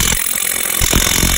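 A small DeWalt 1/2 inch power tool, likely an impact wrench, works on fasteners rusted in place for ten years on a vintage MC5A bus. It gives a loud, continuous mechanical whir and rattle with brief pulsing bursts.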